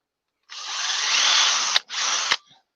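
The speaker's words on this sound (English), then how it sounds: "put it on there and drill it that way" A power drill bores into a wooden Christmas ornament in two close, loud whirring runs, a long one followed by a shorter one, each ending in a sharp stop.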